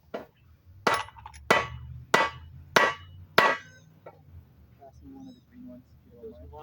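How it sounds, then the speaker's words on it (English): Five sharp hammer blows land in a steady rhythm, close and loud, followed by quieter taps and faint background sounds. "Hold on, I need to hammer it."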